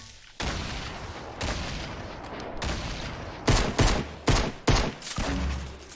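Grenade explosion and gunfire in a shooter video game, heard as a loud blast followed by several sharp, punchy bursts of shots in quick succession.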